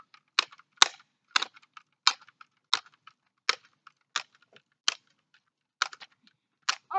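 A BB gun fired repeatedly, giving about a dozen sharp, snappy cracks at irregular intervals, each short and clean with silence between them.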